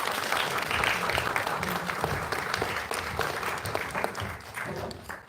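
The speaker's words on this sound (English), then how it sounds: "Can we just give them a round of applause?" Audience applause in an arts centre after thanks to interpreters at a poetry event, a dense steady wash of many hands clapping that carries on throughout and eases slightly near the end.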